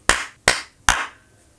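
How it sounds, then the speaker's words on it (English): Three sharp, separate hand claps, close and loud, evenly spaced with brief room decay after each one. "Need a better clap than that."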